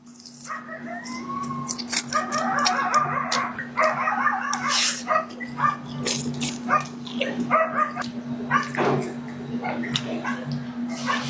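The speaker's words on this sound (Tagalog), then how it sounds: "Ang ingay ng mga aso eh." Several dogs bark and yip repeatedly nearby in irregular bursts, over a steady low electrical hum.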